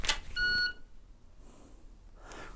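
Shot timer on a pistol draw practice range gives a short, sharp electronic beep, preceded by a brief click and followed by quiet handling noises.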